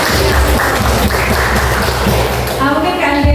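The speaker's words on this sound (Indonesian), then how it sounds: "Oke, berikan tepuk tangan." Applause from a lecture audience, a dense steady patter of clapping that lasts throughout and sits under some talk and crowd murmur.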